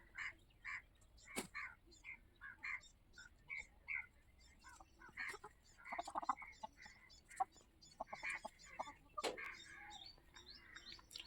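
Chickens walking past outdoors give scattered clucks and short calls that come in irregular bursts, fairly faint and at moderate distance, with a few sharp knocks among them.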